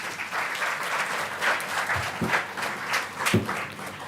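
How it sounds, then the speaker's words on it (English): Audience applause fills a seminar hall at the close of a two-day international conference on leadership and business, a steady dense clapping that swells and dips with a few sharper individual claps standing out. "Let's have a round of applause."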